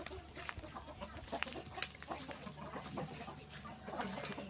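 Chickens cluck and chatter softly during feeding on a farm, amid a busy, noisy outdoor background, with scattered short calls throughout.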